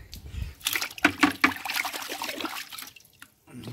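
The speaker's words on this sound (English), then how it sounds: "Put them in a bucket of water." Small chainsaw parts dropped and rinsed in a bucket of water after a white vinegar soak, giving close sloshing and trickling splashes with clattering knocks over a few seconds before a short pause.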